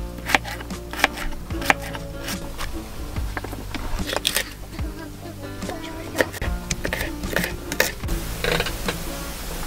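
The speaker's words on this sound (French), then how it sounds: "Donc on coupe en tout petit." Food is chopped into tiny pieces on a board, with irregular sharp knife taps repeating at close range amid outdoor background noise and occasional talk.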